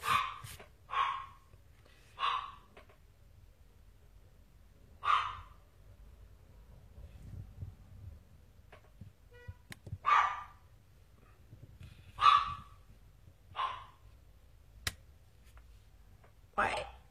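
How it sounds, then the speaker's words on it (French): A dog barks indoors in short, separate bursts, about nine barks spread irregularly across a quiet background. "c'est un de mes chiens qui aboie"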